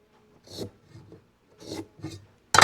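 A pencil is drawn along a square across a wooden board, making several short dry scratching strokes spaced about a second apart, followed by a louder brief rasp at the end.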